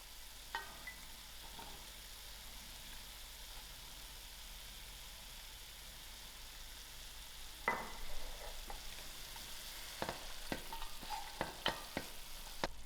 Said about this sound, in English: I'm going to add in my dubla to the herbs so they cook together.